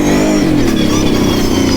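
Kawasaki KFX700 ATV engine revving hard as the quad lifts into a wheelie, a loud, steady mid-pitched roar held close throughout with slight rises and dips in throttle.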